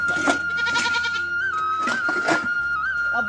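Goat bleating in a rural Maithili comedy sketch, a few short bleats over constant background noise and a steady tone, fairly close and loud, with no speech.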